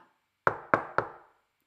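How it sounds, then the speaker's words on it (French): Three sharp, evenly spaced knocks on a door, close and clear against near silence, each with a short hollow decay. "En frappant à leur porte, elle cria"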